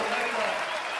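Concert crowd at a live show by a band, a brief burst of loud, dense clapping mixed with crowd noise and some voices.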